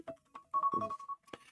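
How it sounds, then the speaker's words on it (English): A phone ringtone plays a short, bright electronic melody of tonal notes and a sustained beep, fairly faint and indoors, with brief voice-like fragments around it. "That's your phone."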